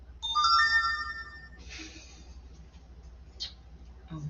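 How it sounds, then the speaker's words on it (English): A phone ringtone chimes in a quick bright melodic burst near the start, followed by a streamer's room with faint breathing and shuffling. "that's my phone."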